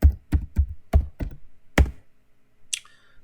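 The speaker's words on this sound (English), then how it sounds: "So type in limits." A handful of crisp keystrokes on a computer keyboard, six quick separate taps, then a short higher click, heard close and alone in a quiet room.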